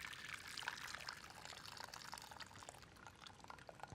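Hot pasta water pours from a sloped silicone microwave pasta cooker in a steady, close splashing stream, poured slowly and continuing throughout without talk.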